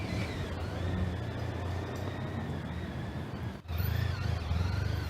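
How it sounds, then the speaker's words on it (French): A car leaving a courthouse hums and pulls away, a low steady rumble with a brief dip before the motor noise resumes, heard from a moderate distance. "la voiture de Jérôme Cahuzac quitte le tribunal."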